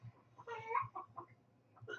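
Chickens cluck faintly in a soft, uneven run of short clucks over a low background hum.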